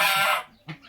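Farmyard rooster giving a short, loud, close crow that cuts off abruptly, followed by a brief softer cluck.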